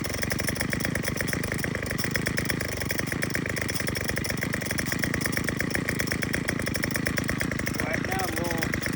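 A Craftsman WS2200 weed wacker with a new engine runs continuously close by, a steady buzzing two-stroke drone, with someone talking over it.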